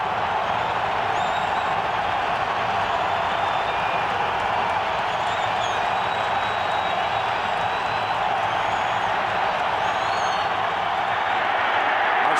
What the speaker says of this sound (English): the Colts with this raucous crowd at full throttle here at the start